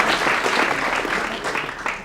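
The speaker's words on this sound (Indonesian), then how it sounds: "tepuk tangan dulu." An audience at a Poltek LLASDP Palembang campus event claps together in steady, dense applause that holds at a consistent loudness for the whole stretch, with no talking over it.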